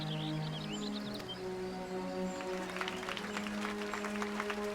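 Faint applause from a crowd starts partway through and keeps on, heard over sustained background music with some high chirping tones early on, in a Final Fantasy XIV cutscene.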